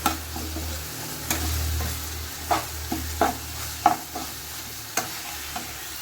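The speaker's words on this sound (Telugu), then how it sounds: "ఈ పచ్చికారాన్ని బాగా మిక్స్ చేయాల" Green chili paste stirred in a frying pan for Rayalaseema uggani, a soft sizzle under intermittent scraping clicks of a spoon against the pan, close and moderately loud.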